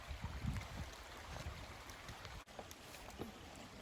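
Creek water flowing steadily beside a parked spot on an outdoor trail, a continuous soft wash of running water heard close and fairly quiet, with no talking.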